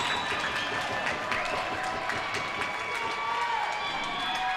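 A crowd of Comets fans at a winter volleyball championship cheers and claps loudly and continuously, with scattered shouts and whistles filling the gym.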